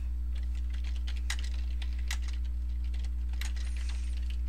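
Fast, irregular clicks from typing on a computer keyboard, light and fairly close, scattered across the clip over a steady low electrical hum.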